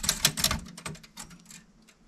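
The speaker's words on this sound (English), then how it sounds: "And there's a typewriter." A typewriter clatters in a quick run of sharp, close keystrokes for about a second, then several sparser, softer strikes trail off into quiet.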